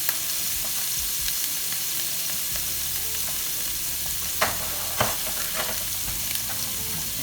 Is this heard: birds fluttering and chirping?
no